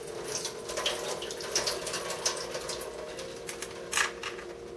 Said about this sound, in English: I'm going to just pour some water in the can